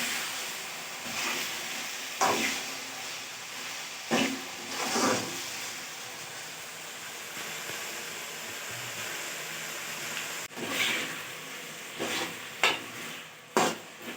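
Chicken liver fries in a pan under a low background sizzle while a spoon stirs and scrapes it in irregular bursts, several louder knocks against the pan standing out.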